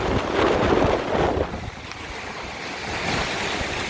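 Storm surf from Tropical Storm Sally surges beneath a beach pier at Dauphin Island, a loud rushing wash of waves that swells and fades, heavily mixed with gusting wind buffeting the microphone.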